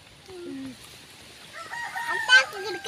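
Chicken in a garden, heard as a rooster's crow rising mid-clip with a few scattered clucks, fairly close and moderately loud against quiet outdoor background.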